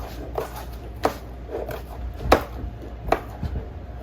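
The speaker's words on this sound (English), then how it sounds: "I'm just going to go ahead and chop these just for time's sake" Knife chopping vegetables into half moons on a cutting board for an omelet: a few sharp, separate thuds spaced irregularly, fairly close, over a low steady background hum.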